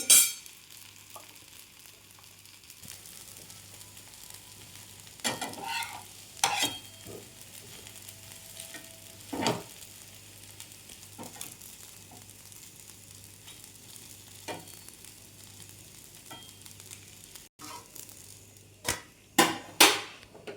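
Green bean dosa frying in a hot pan gives a soft, steady sizzle, with a few sharp scrapes and taps of a spatula now and then and a louder clatter near the end; no one speaks.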